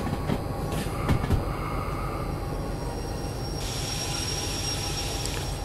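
Locomotive in Derail Valley pulling a long military freight train, a steady rolling rumble of wheels on rails with faint metallic clicks and a high whine rising partway through, heard alone with no talk.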